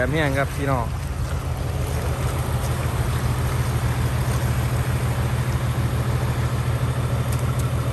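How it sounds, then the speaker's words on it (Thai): Fast-flowing floodwater roars along the road between Warin Chamrap and Ubon Ratchathani during the 2022 floods. A loud, constant churning rush with a low rumble runs throughout, and a voice is briefly heard at the start. "น้ำไหลเชี่ยวมากครับ"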